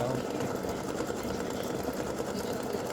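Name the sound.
sewing machine stitching appliqué test on fabric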